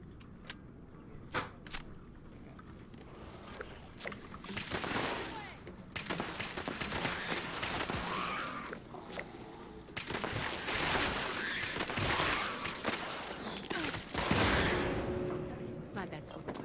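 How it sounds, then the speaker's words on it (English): Rapid bursts of video-game gunfire crackle in dense volleys during an inspection mission, with sustained rattling and booms layered under occasional talk. "Shooting the dead fly."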